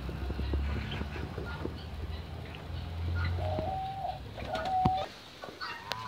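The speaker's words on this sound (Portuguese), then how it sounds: "Pomba burguesa ou pomba cola." White pomba burguesa doves coo in an aviary with soft, rolling calls repeated a few times, close by against faint background rustling and distant bird sounds.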